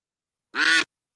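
One short, nasal quack from a duck at a duck race rings out alone against silence.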